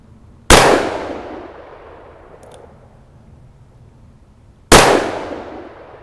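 Two loud, close gunshots from a Ruger GP100 revolver firing Remington 158 grain .357 Magnum rounds, spaced about four seconds apart, each a sharp blast trailing off into a long ringing decay, with no talking.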